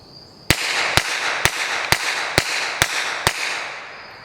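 A suppressed Walther PPK SD in .32 ACP fires seven rapid shots in an even rhythm, each a sharp, loud crack about half a second apart, with a steady noisy background between the shots.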